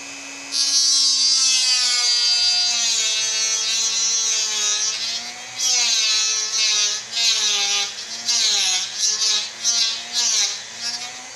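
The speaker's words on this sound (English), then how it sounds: "Such a good tool, the Dremel." A Dremel rotary tool whines at high pitch as it grinds, its tone sliding up and down with load in a sustained, close run that stutters and pulses toward the end.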